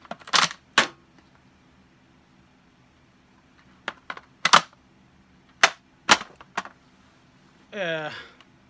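A JTS AK 12 gauge shotgun with a Rock and Lock magwell mod fires in a rough series of sharp, loud reports, some close together with long gaps between, ending in a short mechanical rattle.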